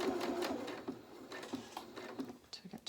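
A domestic sewing machine stitches a seam on a small waistcoat in a rapid, whirring run of needle strokes. It stops briefly at a pivot, then carries on, close and fairly quiet.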